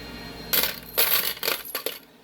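Silver wartime nickels clinking and jingling together, several bright metallic clatters over about two seconds, close up and moderately loud with no talk.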